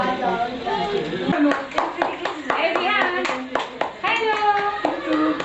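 A small child at a first-birthday gathering claps hands in a run of sharp, close taps, mixed with adults talking and a voice throughout.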